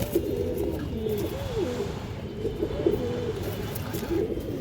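Fancy pigeons with yellow chicks coo steadily in a loft, a dense overlapping murmur of low rolling calls held close and fairly loud throughout, with no voices.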